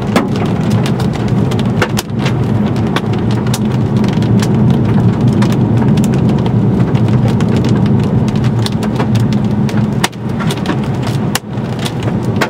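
Quarter-size hailstones, about an inch across, pelting a vehicle during a hailstorm in Morton, Texas: a dense, loud, continuous drumming of impacts with occasional sharper cracks, heard from inside.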